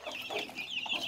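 A hen with a single newly hatched chick clucks softly and repeatedly at a farm feeder, a quiet, close run of short throaty clucks with faint higher peeps.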